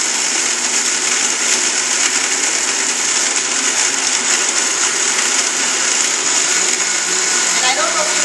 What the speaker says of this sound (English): These are commercial blenders, the same blenders that are used at Jamba Juice